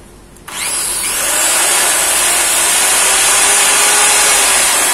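A used Japanese power drill is test run on the bench, its motor spinning up from a click into a loud, steady high-pitched whine that holds constant, with no talking.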